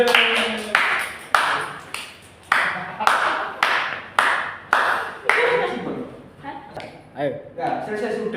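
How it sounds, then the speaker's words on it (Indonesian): Classroom students clapping together in a rhythmic pattern, a series of sharp, loud collective claps in even bursts with short pauses between them, close and lively, with a few voices mixed in. "Tepuk tangan semuanya."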